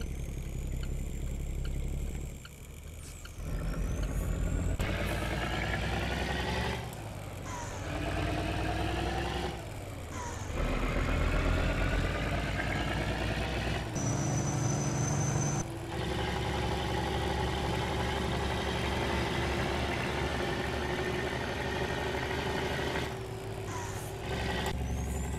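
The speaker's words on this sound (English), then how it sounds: "the low end of this engine sounds freaking amazing" Kenworth W900L dump truck in American Truck Simulator, its engine idling and rumbling with a deep low end, steady and close, broken by brief shifts and air-brake hisses, with no talking.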